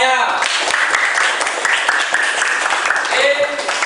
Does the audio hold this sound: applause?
yes